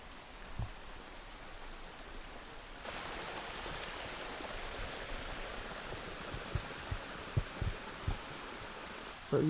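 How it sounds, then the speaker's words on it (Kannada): A small mountain stream flows beside a forest trail on the Shivapuri Bishnudwar trek near Kathmandu, a steady, fairly faint rushing wash that thickens after a few seconds, with occasional soft thumps and handling knocks nearby. "ಸೊ ಇಲ್ಲೊಂದು ಸಣ್ಣದಾದ ಜರಿ ಹರಿತಾ ಇದೆ."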